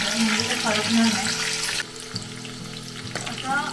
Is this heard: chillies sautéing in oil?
yes